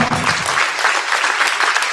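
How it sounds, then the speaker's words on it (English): Audience at a school district parent forum gives a sustained round of applause, dense clapping filling the hall steadily and evenly throughout without any speech over it. "Let's give ourselves a round of applause and keep walking"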